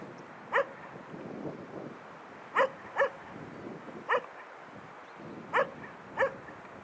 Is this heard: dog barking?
yes